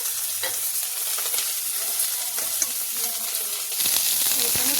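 Lentils for veg dhal frying over full heat in a pan, stirred with a spoon: a steady close sizzle with scraping strokes and small clinks throughout, no voices.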